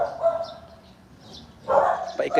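A dog barks in a short burst near the end, after a stretch of quieter background voices and faint household noise.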